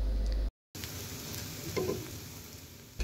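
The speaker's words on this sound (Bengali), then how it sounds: "কিছুক্ষণ সময় নিয়ে এগুলো একটু ভেজে নিলাম।" Red lentil fritters fry in hot oil in a pan, giving a close, crackling sizzle that cuts out for a moment near the start and then carries on steadily for a few seconds.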